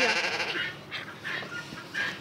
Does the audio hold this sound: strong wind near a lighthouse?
no